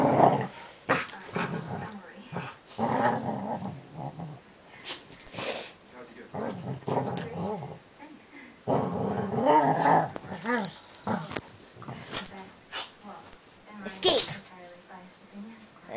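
Dogs growling and snarling during a scuffle, in intermittent close bursts mixed with yips and whimpers, while a person talks over them throughout.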